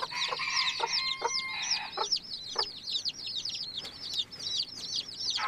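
Baby chicks chirp steadily as they eat at a feeder, a busy overlapping chorus of high, rapid peeps, with a few lower clucks from an adult hen mixed in.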